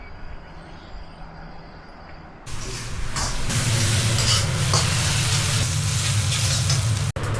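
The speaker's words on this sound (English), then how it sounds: "My wife is going to cook the pork with eggplant." Pork with eggplant frying in a pan in a home kitchen in central China: a loud, steady broadband sizzle starts abruptly partway through and continues with stirring noises, after a quieter opening stretch.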